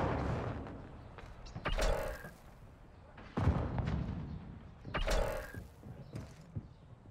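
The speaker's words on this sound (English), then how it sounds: "Changing mag." Magazine swap in Call of Duty Modern Warfare 2 multiplayer, a few mechanical clicks and creaks of the reload spread across the clip, moderately loud and mixed with faint game background.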